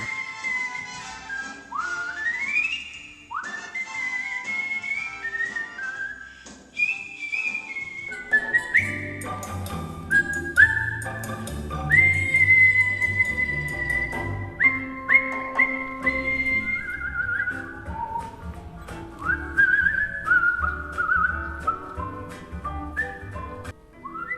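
A person whistles a melodic tune with sliding, bird-like notes, solo at first and then backed by low musical accompaniment, clear and steady throughout.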